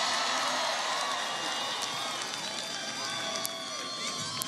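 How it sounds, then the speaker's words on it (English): A large crowd at a Philadelphia campaign rally for Hillary Clinton applauds and cheers continuously, with a dense, steady wash of clapping and whoops and occasional sharper claps near the end. "Can everybody please give Patrick a big round of applause for that great introduction?"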